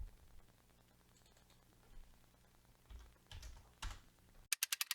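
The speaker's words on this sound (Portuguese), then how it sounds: "escrevo menos 20 e dou Enter" A computer keyboard clicks faintly in a quiet room, scattered soft keystrokes over low hiss, then a few louder taps and a quick run of sharp, crisp key presses at the very end.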